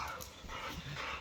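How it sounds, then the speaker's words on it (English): Dogs pant and whimper softly at close range in a brief, quiet burst, with no talking over them. "Doggy dogs."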